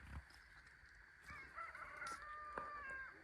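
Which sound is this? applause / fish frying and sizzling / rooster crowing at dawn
rooster crowing at dawn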